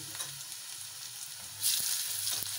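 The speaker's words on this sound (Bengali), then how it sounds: "এই তেলের মধ্যে আমি দিয়ে দিব রসুন কুচি" Chopped garlic sizzles in hot oil, a steady broadband frying hiss that grows louder partway through as it is stirred, close and alone with no talking.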